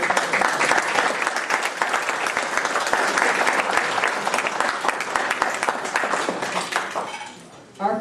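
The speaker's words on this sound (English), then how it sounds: "How about a round of applause?" A round of applause from a gathering on a Peninsula Campaign battlefield tour, a sustained crowd clapping that holds steady for several seconds before tapering off near the end.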